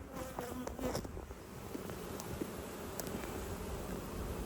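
Honey bees buzz steadily at hive frames fitted with BeeWorld wax foundation, a soft continuous hum filling the whole stretch with no talk over it.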